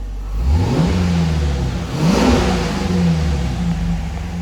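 A 1969 Dodge Charger's engine runs steadily and loud, with a couple of rising revs and a smooth, even tone in between, close to the car with no talk.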